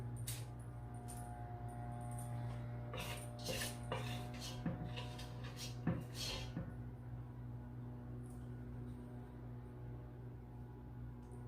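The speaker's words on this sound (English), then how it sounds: "I'm just scraping out the pot" A spoon scrapes and clinks against a pot of Caribbean coconut drops mixture in a series of short metallic strokes, over a steady low kitchen hum.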